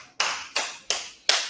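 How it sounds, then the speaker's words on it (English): Four sharp, evenly spaced hand claps at the close of an abs and core workout, each crisp and near, with short decays between them. "Give yourselves a round of applause."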